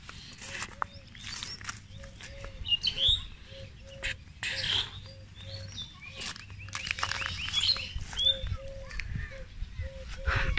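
Birds in a Bangladeshi village chirp and tweet in scattered bursts while a steady series of short, repeated, evenly spaced calls runs underneath; people talk nearby and a low outdoor rumble continues in the background.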